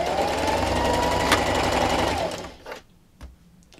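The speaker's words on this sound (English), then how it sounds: "I'm going to backstitch at the beginning." Close, loud whir of a sewing machine backstitching outdoor throw pillow fabric at a quarter-inch seam, running steadily for about two seconds before stopping, followed by a few soft clicks and handling sounds.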